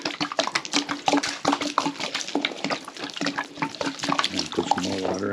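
Water pours and splashes steadily onto a large log on a sawmill, a continuous loud wash of spatter and trickling with a short tonal sound near the end.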